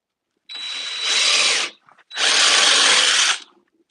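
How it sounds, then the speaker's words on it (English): A power drill bores into carved wood in two close, loud bursts of whirring and grinding, separated by a short pause. "if I go in too far, I might drill through the side."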